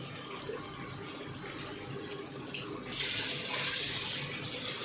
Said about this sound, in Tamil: இப்போ நம்ம தேவையான அளவு தண்ணி சேர்த்துக்கலாம்